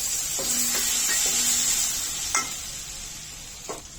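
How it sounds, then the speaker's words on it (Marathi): Masala spices with potato pieces frying in oil for a Bhogi mixed-vegetable dish, a steady hiss of sizzling under a few clinks of a spoon stirring against the pan. "मसाला तेलामध्ये चांगला परतून घ्यायचा आहे आता मसाल्यामध्ये बटाट्याच्या फोडी घालून घ्यायच्या"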